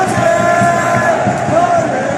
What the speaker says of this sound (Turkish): Maçta etkili bir oyun oynayan Sergio'yu herkes şu an ayakta alkışladı